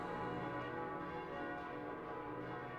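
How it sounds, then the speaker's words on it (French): Church bells in the Koudelka video game ring as a steady, dense, resonant drone of overlapping tones, soft and distant, with no talking. "Mais qu'est-ce que c'est que ces cloches"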